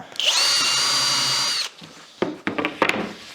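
A power drill bores countersunk holes into wooden French cleats, one loud, close, high whine lasting about a second and a half, then a few short rattling bursts and clunks as the bit stops and the piece is handled.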